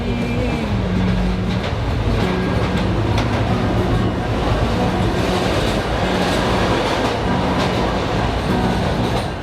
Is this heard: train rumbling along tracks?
yes